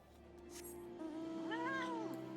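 A cat meows in Final Fantasy XIV, one drawn-out, rising and falling call over a steady game music bed with a soft chime early on.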